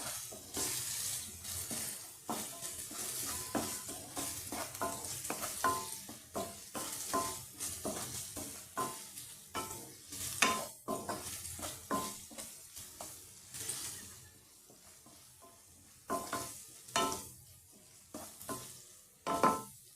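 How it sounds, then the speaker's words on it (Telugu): Onions frying in a pan with ginger-garlic paste for a raw prawn curry, stirred with repeated scraping strokes over a steady close sizzle, no talking. "ఆనియన్స్ వేగుతూ ఉన్నప్పుడే అల్లం వెల్లుల్లి పేస్ట్ యాడ్ చేద్దాం"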